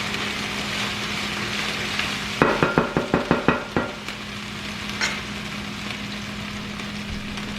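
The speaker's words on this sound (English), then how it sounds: "So I've been frying the ginger garlic paste for a couple of minutes" Ginger garlic paste sizzles steadily in a hot pan over a low flame while a spatula clacks against the metal in a quick run of about eight taps, then the frying continues alone.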